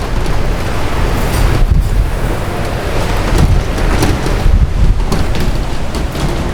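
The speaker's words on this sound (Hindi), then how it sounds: "बारिश तेज है, हवा का भी दबाव ज़्यादा है।" Heavy rain and strong wind during a thunderstorm, a continuous loud roar of rainfall mixed with buffeting gusts against the microphone, surging and easing steadily throughout.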